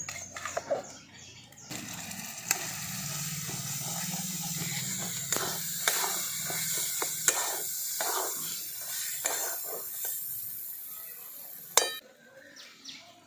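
Ground lentil paste goes into hot tempering with asafoetida in a pan and is stirred through it, giving a loud sizzle and hiss broken by scraping and clinking spoon strokes, near and alone, ending in a sharp clank.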